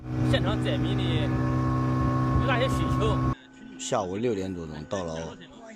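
A loud, steady boat engine drone fills the first half, then cuts out, leaving voices talking over quieter background noise.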